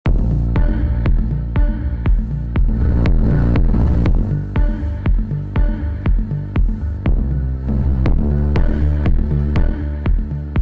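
Loud music run through the drive distortion effect of the AMPlify audio plugin, a dense pulsing beat with gritty saturated tones and sharp rhythmic hits, steady and upfront with no voices.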